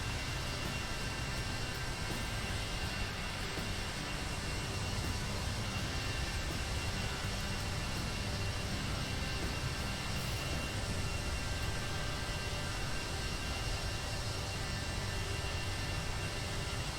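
Steady airliner engine drone on a long-haul flight in the X-Plane 11 simulator, from Juneau toward Seattle, a constant broadband hum with no change throughout and no talking.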